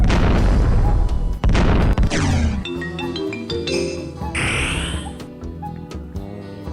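Bomb blasts in the video game Lode Runner Online: The Mad Monks' Revenge, a couple of booming low thuds early on, then chirpy bright game effects and musical tones ringing out afterward.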